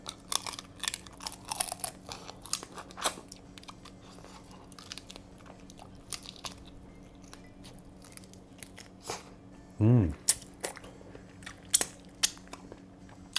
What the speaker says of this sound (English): The prawns very crunchy